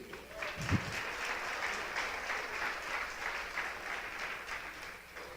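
A church congregation applauds during a sermon, a steady wash of many hands clapping at moderate volume for several seconds, with one brief low thump early on and no talking over it.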